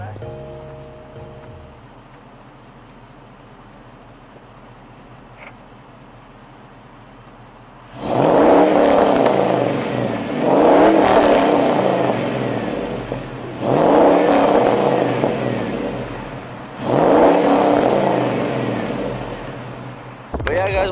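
A lowered truck with a newly installed quiet muffler exhaust, revved four times in a row. Each loud, rising engine roar falls back to idle, heard nearby after a quieter idle opening.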